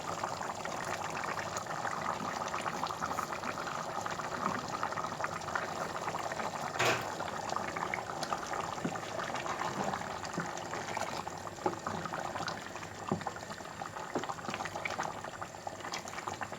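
A meat and potato stew simmers in a pot, a steady close bubbling and gentle burbling that runs continuously at low volume with no talking.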